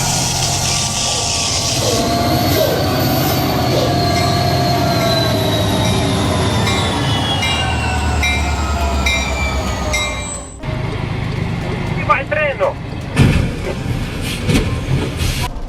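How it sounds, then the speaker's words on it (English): A loaded CSX freight locomotive roars loudly and steadily as its wheels slip and the turbo blows, with rising whines and a sustained rumble, followed by clattering, squealing rail noise near the end. "CSX locomotive blows turbo from wheel slip and freight load."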